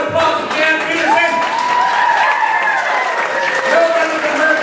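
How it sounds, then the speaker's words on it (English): Applause rises from a small group gathered for a ghost tour storytelling session in Elko, a continuous patter of hands with voices mixing in over it. "Let's everyone give a round of applause to Jan Petersen."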